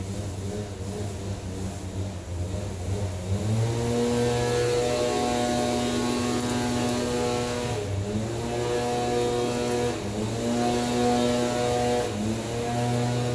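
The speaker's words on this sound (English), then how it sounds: "Pardon the idiots with the leaf blower" A leaf blower runs outdoors nearby, a loud, sustained droning whine with shifting pitch as the engine revs up and settles, continuing without pause throughout.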